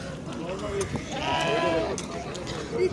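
Lambs bleat at a sheep market in Bishkek, Kyrgyzstan, with a few wavering calls rising over a crowded background murmur of voices.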